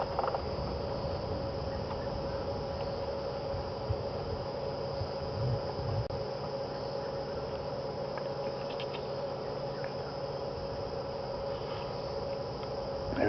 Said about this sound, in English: You can hear some crickets, some cicadas.